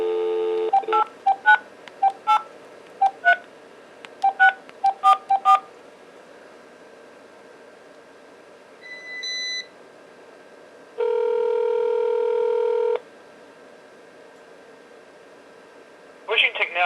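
Touch-tone keypad beeps as a number is dialed on a home emergency phone for seniors, a series of short bright tones in uneven bursts, then a steady tone, a longer held tone and a final flurry of beeps.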